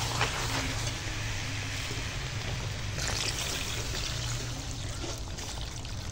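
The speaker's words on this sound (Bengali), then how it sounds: "তো এখন জল দেবো," Water pours into a pot of braised goat head curry over a wood fire in a clay stove, a steady rushing splash that runs throughout at close range.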